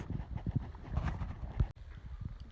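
Horse hooves clip-clop at a steady walking rhythm as a Mexican cowboy rides along rough riverside terrain in Boquillas Canyon, Big Bend, close and fairly loud with a brief gap near the end.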